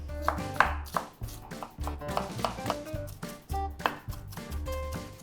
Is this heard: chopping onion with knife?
yes